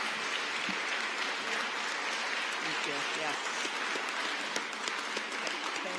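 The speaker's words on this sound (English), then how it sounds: "let's give them one more round of applause" Audience applause at an exhibit opening fills the room in a dense, steady wash, with a few voices speaking briefly over the clapping.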